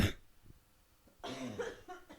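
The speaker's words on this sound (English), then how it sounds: "I still have that like the residual dry cough" A single dry cough up close, then a short second burst of coughing and throat noise, with quiet room tone between.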